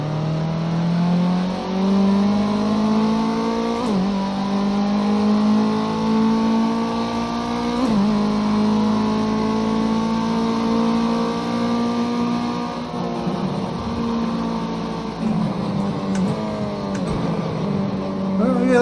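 A race car in Project Cars 2 laps Oulton Park, its engine revving up through the gears with sharp shifts and throttle lifts, loud and continuous, with no talk.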